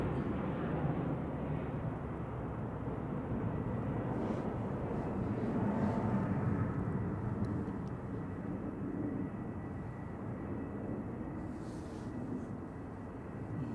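A Ryanair Boeing 737 MAX 8200 jet at Manchester Airport on a clear night makes a distant, steady wash of engine roar that holds evenly before easing slightly toward the end, with no voices.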